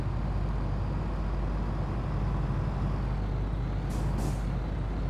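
A MAN truck in the Construction Simulator video game idles with a steady low engine drone, then a short double hiss of air brakes releases near the end, with no talk.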